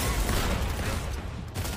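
Rapid, loud, dense SMG fire in a competitive video game, a close continuous burst lasting under two seconds.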